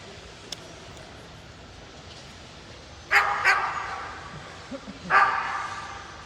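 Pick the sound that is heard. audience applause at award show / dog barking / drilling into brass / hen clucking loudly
dog barking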